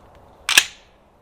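A 20 gauge shotgun loaded with APEX 3-inch, 1 5/8 ounce number 9 TSS shot fires one loud, sharp blast outdoors, with a short tail and no voices.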